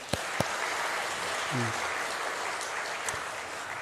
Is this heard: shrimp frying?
no